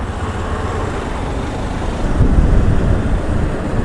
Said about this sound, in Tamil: டிராஃபிக் அதிகமாக இருக்குது